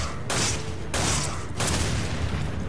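Three loud booming explosions in quick succession in Resident Evil 5, each a sharp burst of noise that lingers, over a rumbling background.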